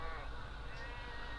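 A sheep in a scary music video lets out one loud, close, wavering bleat, with other sound faintly beneath it.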